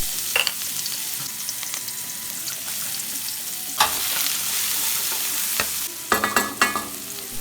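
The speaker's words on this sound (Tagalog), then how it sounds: "Sa kawali, igisa ang onion at garlic." Onion and garlic sautéing in a pan for a no-bake lasagna red sauce, a steady close sizzle that runs throughout, with the clack of a spatula stirring and scraping at intervals and no talk.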